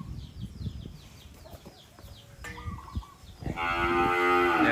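Cattle on a cow farm let out a loud, drawn-out moo close by, rising over a background of chirping birds and faint barnyard noise.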